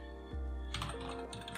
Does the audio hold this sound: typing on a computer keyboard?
yes